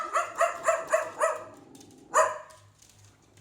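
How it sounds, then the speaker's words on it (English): A dog barks five times in quick succession, pauses, then barks once more; close and clear with little else around. "dog's barking at me"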